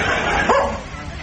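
A small dog named Fluffy gives a single short bark, close and fairly loud, over a faint background hiss.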